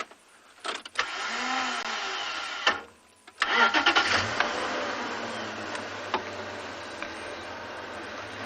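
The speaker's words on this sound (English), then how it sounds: "Sorry, to keep the engine low." Safari vehicle engine cranks with a brief starter whir, catches after a pause, revs up and settles into a steady low idle, close and clear.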